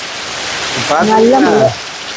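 Heavy rain pours steadily in Kozhikode, a constant broadband hiss that holds throughout, with a voice talking briefly over it midway.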